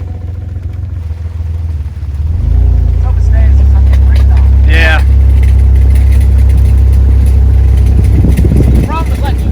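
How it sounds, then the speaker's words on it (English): An engine just pulled from a pond runs loud and steady from about two seconds on, a deep continuous rumble with rising revs, while people talk briefly over it. "This engine sounds good."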